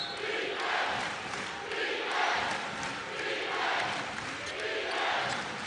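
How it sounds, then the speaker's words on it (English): College basketball arena crowd at TD Arena during a Hofstra game, a moderately loud rumble of many voices that swells and fades in waves, with cheering rising in several surges. "Crowd now starting to try to get into it."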